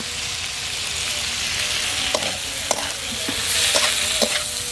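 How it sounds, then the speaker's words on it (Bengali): Tomatoes with chili powder, turmeric, onion and salt stirred and fried in a pan, cooked village-style: a steady close sizzle with repeated scraping stirs of a spoon, no voices. "হলুদ মরিচের সাথে টমেটোটা ভালো করে কষিয়ে নেব।"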